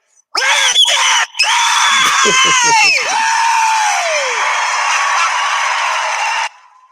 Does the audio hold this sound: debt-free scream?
yes